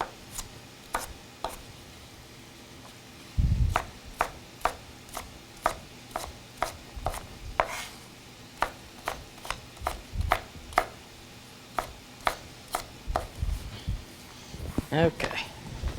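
A knife chops steadily on a cutting board, slicing ingredients about a quarter inch thick for Mexican lasagna, with sharp evenly spaced cuts over a long stretch and a brief low clunk partway through.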